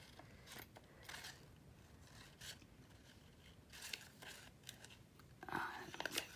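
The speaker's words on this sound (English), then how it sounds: "Remember when you're cutting out, you move your cardstock and not your scissors." Scissors snip through cardstock in a few faint, short crisp cuts spaced irregularly, with quiet low background hum between them.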